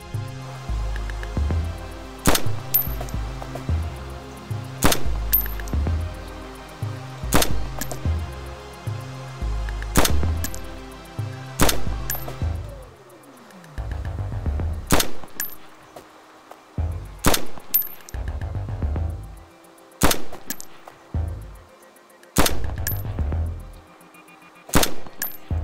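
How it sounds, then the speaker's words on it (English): M4 rifle in the video game DayZ fired full auto down the iron sights: loud, sharp bursts of rapid shots in several repeated volleys with brief pauses between them, no voices. "The M4 set to full auto and aimed down the iron sights gives us this group of shots."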